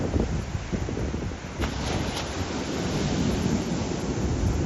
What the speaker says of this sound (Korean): 이거는 초보자가 타기에는 굉장히 큰 파도고